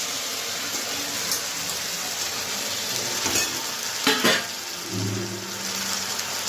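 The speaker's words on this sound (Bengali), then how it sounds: "দিয়ে সামান্য জল দিয়ে মশলাটাকে এবার আমি কষিয়ে নিচ্ছি" Ground coriander, cumin and turmeric with a splash of water fry into a spice paste in a pan for a potato and eggplant dish, a steady hissing sizzle with occasional stirring scrapes and bursts.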